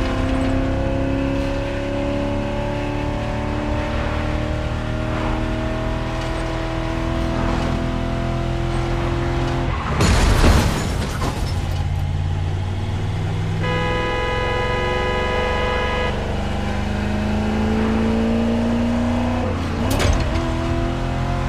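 BMW Z4 M40i in The Crew Motorfest, a steady engine drone with shifting tones as the car drives on, a couple of brief louder bursts partway through, no talk.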